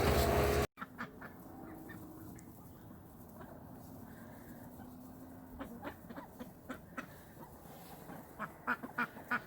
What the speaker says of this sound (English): So I just came up here to give the ducks some mealworms.